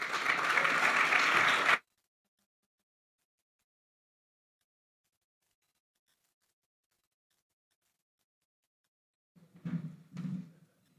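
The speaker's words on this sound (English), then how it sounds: "So now the round of applause for the Mayor, please" An audience at a chamber of commerce event applauds the mayor in a short burst of clapping that cuts off abruptly, then silence and a couple of faint thumps.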